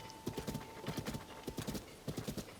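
Horse hooves clip-clopping in the video game Tears of the Kingdom, a horse pulling a load behind it, with brisk repeated trotting beats in quick clusters, close and clear over quiet background.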